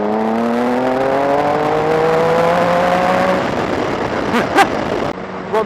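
A 2007 Triumph Tiger 1050 motorcycle engine revs up steadily in third gear from low RPM, a rising harmonic drone that climbs in pitch for several seconds before easing off, followed by a brief burst of wind and handling noise.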